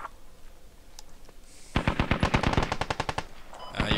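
A light machine gun firing in the Squad video game, a rapid burst of about fifteen sharp shots in quick rhythm, loud and fairly near, preceded by a quieter stretch with a few faint distant pops.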